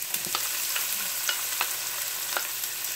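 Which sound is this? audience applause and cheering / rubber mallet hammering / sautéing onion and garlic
sautéing onion and garlic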